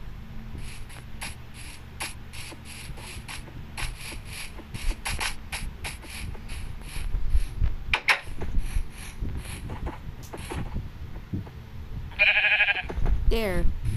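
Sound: sheep bleating in Minecraft video game

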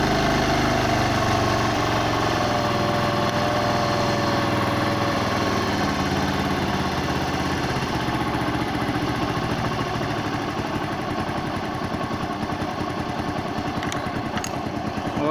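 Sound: Bajaj motorcycle engine idling, RPM lowered

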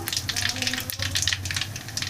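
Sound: mustard seeds sizzling in hot oil for tempering

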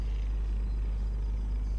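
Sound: car engine rumble in Microsoft Flight Simulator 2020 video game

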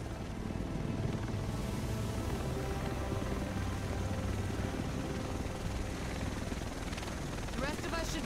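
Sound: helicopter arriving in the video game Tom Clancy's The Division

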